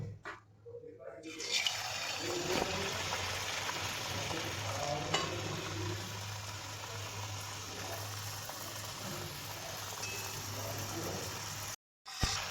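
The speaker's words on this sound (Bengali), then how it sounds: "এবার এক এক করে পুলিগুলো আমি ভেজে নেবো" Puli pitha dumplings fried one by one in hot oil in a wok (kadai), giving a steady, continuous sizzle that runs for several seconds after a brief quiet start, then cuts out briefly near the end.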